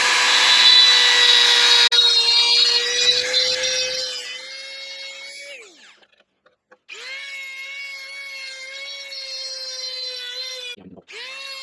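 A metal column for a model engineer's beam engine being drilled out on a lathe, producing a steady high tonal whine and grinding that stops briefly, then resumes with a sustained ringing squeal, near and fairly loud.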